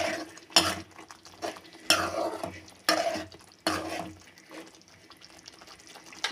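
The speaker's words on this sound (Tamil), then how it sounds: "நம்ம எடுத்து வச்சுருக்கிற முட்டையை இதில் சேர்த்துக்கலாம். சேர்த்துட்டு நல்லா கலக்கி விடுங்க" Egg masala curry being stirred in a pan, a series of close, rhythmic scraping and wet clinking strokes with short pauses between them.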